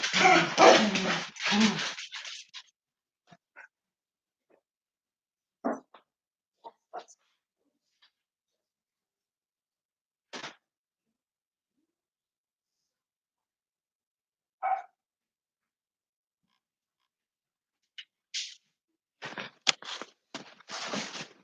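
Dog barking and whimpering indoors, scattered short yips and whines spread across long quiet gaps, with a person talking briefly at the start and again near the end.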